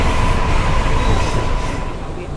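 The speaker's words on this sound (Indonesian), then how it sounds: "Jadi kereta api Serelo sekarang berjalan dengan kecepatan 57 km per jam" A KA Serelo passenger train in Indonesia runs at about 57 to 58 km/h, heard from inside the locomotive as a steady, loud, close rumble with a faint constant hum over it.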